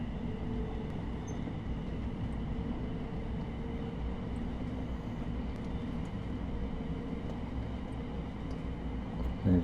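A train in Train Sim World 6 heading toward Luton gives a steady, low rumble of wheels on rails, mixed with motor hum. The sound runs continuously from up close, with a small bump near the end.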